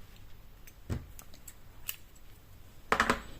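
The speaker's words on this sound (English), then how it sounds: "you are going to chain 1 and cut your" Scissors snip through crochet yarn in a quiet room, with two short crisp cuts, the second louder and closer.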